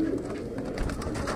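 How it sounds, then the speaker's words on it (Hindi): Qasoori Golden breeder pigeons cooing softly and steadily through the whole short stretch, low murmuring calls close by with no talk. "बहुत अच्छे तगड़े ब्रीडर कबूतर है 15 पीस"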